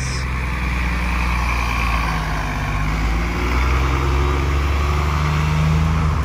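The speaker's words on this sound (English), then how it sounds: "Out comes the Mural bus." Montreal STM city bus pulling out at Vendôme station, a loud, close, steady diesel engine rumble with a brief air hiss at the start, continuous throughout with no talk.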